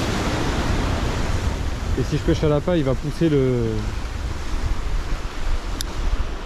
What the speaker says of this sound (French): il y a un petit vent qui était pas prévu qui s'est élevé